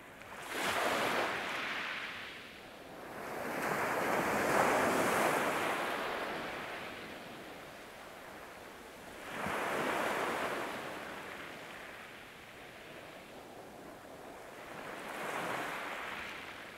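Ocean surf washing onto a beach, rising and falling in slow swells roughly every five to six seconds with steady wind hiss between, moderately loud and continuous with no voices.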